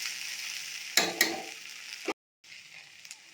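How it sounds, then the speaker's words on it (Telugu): Okra pieces fry in a pan while being stirred, giving a soft sizzle with two sharp scraping stirs close by, a brief silent gap, then quieter sizzling. "మధ్య మధ్యలో కలబెట్టుకుంటూ వేయించుకోవాలి"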